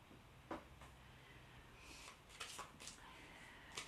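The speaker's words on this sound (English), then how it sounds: "So I'm now going to shuffle my spiral tarot deck." A Spiral Tarot card deck being shuffled by hand, soft papery riffles and slides with a few sharper card snaps, quiet and close over a low steady room hiss.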